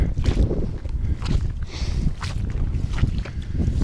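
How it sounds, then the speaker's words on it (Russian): Heavy gusting wind buffets the microphone with low rumbling bursts and rushing noise over a few seconds. "Ветрище, блин."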